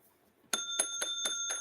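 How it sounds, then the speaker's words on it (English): A quiz show bell rung by hand, five bright metallic dings in a quick, fairly even series after a brief quiet start, each with a clear ringing tone, close and loud with no talking over it. "I just like to ring the bell."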